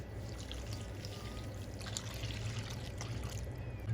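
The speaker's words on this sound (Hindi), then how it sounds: "दूध डालेंगे," Milk pours into semolina in a large bowl, a soft continuous trickling stream at low level over faint background hum.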